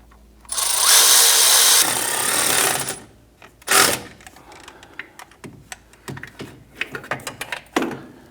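Lower bolts on an O2 sensor of a 2011-2021 Jeep Grand Cherokee 3.6L V6 being tightened with a power tool, a loud sustained whir of about two and a half seconds followed by a short burst and then clattering tool and ratchet noises.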